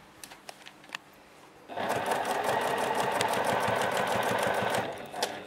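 Juki TL-2010Q sewing machine basting quilt layers with a walking foot, running in one steady continuous burst of rapid stitching for several seconds after a few light clicks, then stopping.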